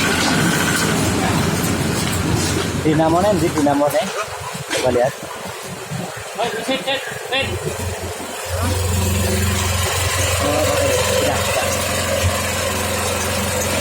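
A plastic waste separator machine at Klampok, Banjarnegara runs on an engine and gearbox, with a steady low mechanical drone and rumbling that rises and dips, while people talk nearby over it.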